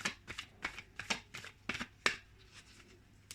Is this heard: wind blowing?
no